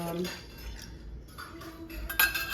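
A metal spoon clinks against a pot while stirring citric acid into milk for mozzarella, light scraping and clinking in short bursts, with a voice speaking softly in between.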